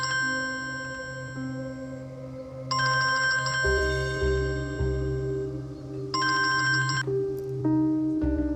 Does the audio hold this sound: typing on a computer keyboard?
no